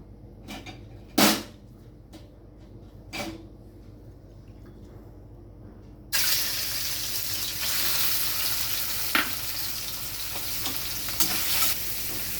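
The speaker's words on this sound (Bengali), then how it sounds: "আমি চিংড়ি মাছগুলো আগে ভেজে নেব।" A quiet kitchen with a few clinks gives way halfway through to a sudden loud, crackling sizzle of shrimp frying in mustard oil that continues steadily to the end.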